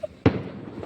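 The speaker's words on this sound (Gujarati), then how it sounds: "આવી ગયા છે રોડ ઉપર ફટાકડા ફોડવા" A single firecracker bursts on a road at night with one sharp, loud, close bang that rings out briefly and fades into low background noise.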